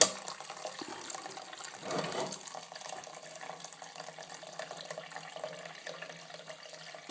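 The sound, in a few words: tap water filling a pot for oatmeal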